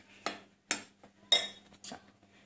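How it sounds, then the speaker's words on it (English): Dry samosa dough ingredients with salt and ajwain are stirred in a bowl, giving four or five soft, separate scraping clinks of a utensil against the bowl, quiet and close with no talk. "then we are going to mix all the ingredients"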